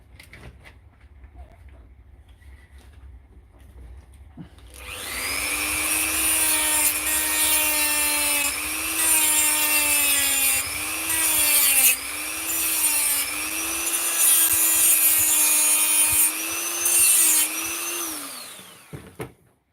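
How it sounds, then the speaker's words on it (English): Dremel rotary tool grinding into a plastic Makita battery casing, a steady high-pitched whine running about fifteen seconds with slight pitch dips under load, close and loud, no talk. "Dremel time again."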